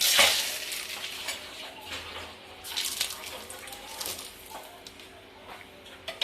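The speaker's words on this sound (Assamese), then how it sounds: "এয়া মই তেল গৰম হোৱাত মই আপোনাৰ তেজপাত দি দিছোঁ" Bay leaves drop into hot oil for a duck recipe, giving a soft crackling sizzle with light stirring and a clink of utensils, fairly quiet and steady throughout.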